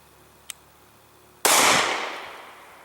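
A Smith & Wesson M&P Shield 9mm fires a single shot of +P HST ammunition, one sharp loud crack that decays into a short echoing tail, preceded by a faint small click.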